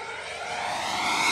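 An RC FMS BAE Hawk 80mm electric ducted-fan jet roars at full throttle, a steady broadband rushing whine that builds slightly in loudness over a moment, heard alone with no talk.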